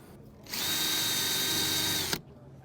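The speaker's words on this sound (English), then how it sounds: "I'm going to switch over to a straight drill bit" Power drill boring rivet holes in wooden boat planking for a TotalBoat Sport Dory, a steady loud whir spinning up and running for about two seconds, then cutting off abruptly, with quiet room background on either side.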